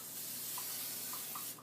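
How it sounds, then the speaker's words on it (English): Cooking spray hisses from a can onto a skillet in a kitchen, one steady broadband spray lasting over a second and a half, close and fairly quiet, with a few faint clinks underneath. "I'm just going to spray the pan."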